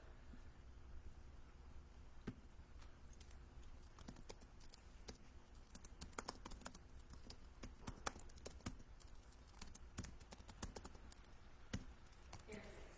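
Typing on a computer keyboard comes through as faint, irregular key clicks against a low background hum.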